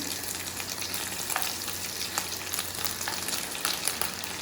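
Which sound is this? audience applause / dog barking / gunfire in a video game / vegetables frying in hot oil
vegetables frying in hot oil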